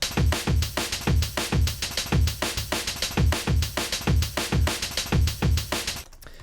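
Chopped breakbeat drum sample in a Tidal live-coding pattern, played as a fast, dense run of punchy kicks and snares repeating in tight rhythm, loud and alone, cutting off abruptly near the end.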